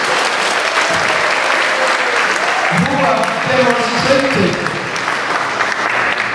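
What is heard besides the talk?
round of applause for facilitators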